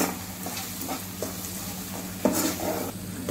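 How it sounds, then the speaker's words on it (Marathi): Egg biryani spices such as garam masala, red chilli powder and turmeric are stir-fried in a pan. Soft sizzling runs under repeated spatula scrapes and knocks, with a sharper clatter near the end. "आता आपण हे मसाले टाकलेले सगळे परतून घेणार आहोत चांगले।"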